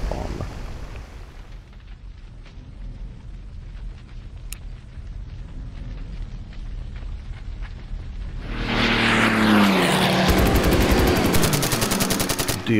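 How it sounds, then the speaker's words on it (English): Gunfire rattles through a video game air battle as a bomber is shot down, with a low engine drone that swells into a loud, continuous burst of rapid shots and a roaring crash toward the end. "There goes another bomber."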